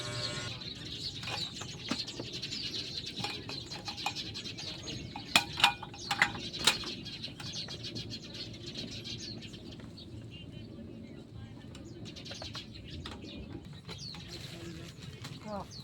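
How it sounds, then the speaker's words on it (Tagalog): Birds chirp and coo intermittently at a motorcycle campsite, with a few sharper calls standing out over a steady background hum and faint murmuring. "natutuwa po ako sa mga huni ng ibon"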